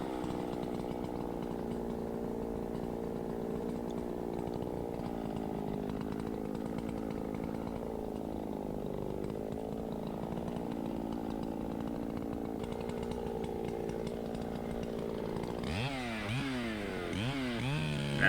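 A chainsaw runs steadily while a poplar is felled with a Humboldt cut down a hillside, the engine droning close and loud throughout, then shifting pitch sharply near the end as the saw revs up and down.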